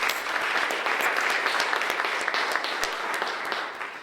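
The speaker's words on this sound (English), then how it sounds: "And give yourself a round of applause." An audience applauds a government minister's thanks with a continuous round of clapping, sharp individual claps standing out of a steady wash that holds level and begins to thin toward the end.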